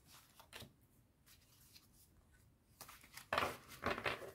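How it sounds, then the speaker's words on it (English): Tarot cards are shuffled in quiet, soft riffling bursts that build to a louder crisp flurry near the end, close up, with no talking. "Reshuffle."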